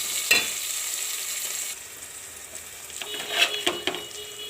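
Tomato pieces frying in hot oil for a potato and egg curry, a steady close sizzle with a few sharp stirring scrapes and clinks breaking through toward the end.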